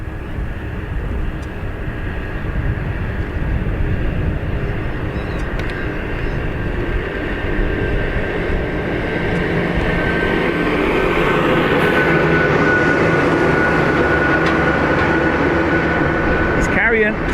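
A United airliner departs Dublin Airport, its jet engine roar building steadily from a broad rumble into a loud, sustained whine close by, with people talking over it.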